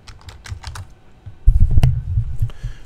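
Typing on a computer keyboard at a Windows machine: a few light scattered keystrokes first, then a denser burst of close, crisp clicks.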